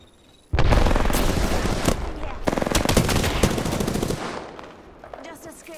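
Automatic gunfire in the video game Apex Legends, starting abruptly as loud, rapid sustained bursts of shots with heavy booming impacts, gradually trailing off toward the end.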